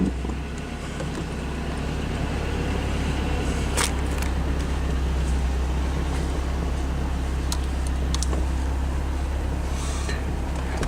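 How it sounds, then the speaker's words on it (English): A Honda Del Sol drives along a one-way street at speed, a steady low engine drone and road rumble heard from inside the cabin, with faint clicks and rattles over a constant hum. "it's a pretty quiet car if you get this thing up to speed and roll around at a pretty good clip"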